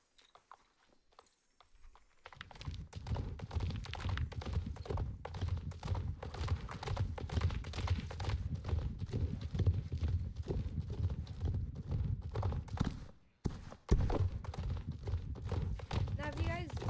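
Steady clip-clop of a horse's hooves from a ridden horse in a fantasy video game, continuous and close for most of the stretch, with a brief pause near the end before the hoofbeats resume.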